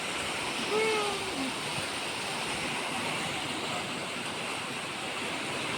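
A swollen river in flood rushes past close by, a loud, unbroken roar of churning water. A brief faint tonal sound rises once near the start.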